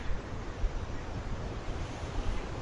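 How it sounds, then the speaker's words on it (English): Water pours steadily over a weir on the River Bolling course in frosty weather, a continuous broadband rush with low rumble and some wind buffeting on the microphone, no voices. "So I'm next to the weir again"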